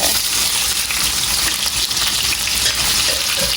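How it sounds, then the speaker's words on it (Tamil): Chopped onions frying in the same oil in a pan give a loud, close, continuous crackling sizzle with bubbling, and no one speaks. "அதே எண்ணெய் சட்டிக்குள்ளேயே வெங்காயத்தை போட போகிறேன் வெட்டி வச்ச வெங்காயத்தை"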